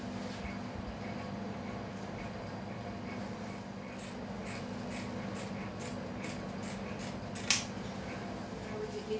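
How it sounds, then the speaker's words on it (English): Scissors snip through a plaster backslab to trim it to length during a below-elbow splint application, a series of faint, regular crisp cuts over a steady low hum, with one sharper snap near the end. "we can just cut the length of it"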